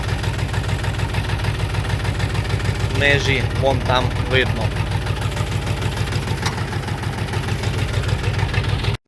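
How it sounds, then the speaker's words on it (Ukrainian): A Kentavr 244 tractor engine runs steadily at idle-like revs with a constant low throbbing rumble, working with a Lisicki 1.35 m rotary mower in a field, while someone talks briefly over it. "Тракторець Кентавр працює."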